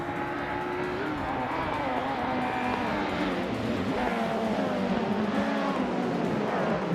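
Race cars in a racing game on the Código Corto D track, including a 1991 Vauxhall Cavalier, roar together as a dense pack of engines with rising and falling revs and occasional tire squeal, loud and continuous without talk.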